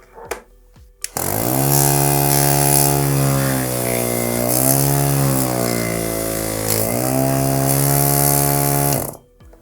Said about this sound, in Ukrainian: Зараз компресор під'єднаємо на 12 вольт і вмикаємо і послухаємо, як він буде спрацьовувати.